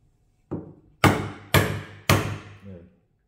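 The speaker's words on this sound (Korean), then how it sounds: "무거운 망치, 큰 망치 쓰니까 확실히 좋아요." Heavy hammer striking a wooden chisel handle while chopping a mortise into timber, four loud, sharp blows spaced about half a second apart, each ringing briefly before decaying, close by with no talk.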